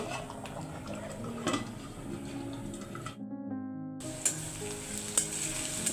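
Hot oil sizzles and crackles loudly as bottle gourd lentil dal is tempered, with stirring and pan clatter; a brief near-silent gap, then a sharp burst of frying resumes with scraping utensil sounds.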